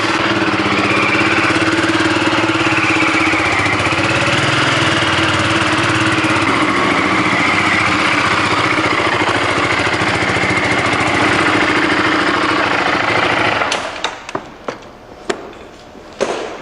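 A motorcycle engine runs loud and steady during a group bike ride, a continuous close roar that drops away near the end into a few scattered knocks and bumps.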